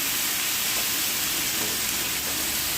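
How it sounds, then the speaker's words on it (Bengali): Chunks of potato, drumstick, pumpkin, eggplant and sweet potato sizzle steadily in a hot pan while being stirred, a close, continuous frying hiss with no talking. "সবগুলো একসাথে দিয়ে ভালো করে একটু নাড়াবো"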